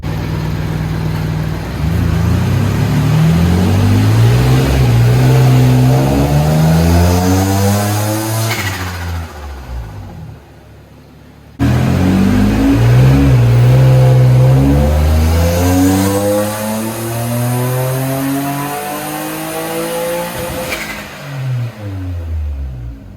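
Single-turbo Nissan G35 on a dyno, engine climbing through two long loud full-throttle pulls, pitch rising steadily before dropping off, with a brief lull between runs.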